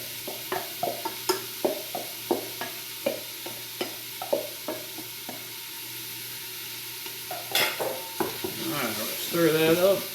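Chilies, garlic and ginger go into a hot chicken soup pot: a run of evenly spaced scraping stir strokes, then a brighter burst of sizzling near the end, close and moderately loud with no talking.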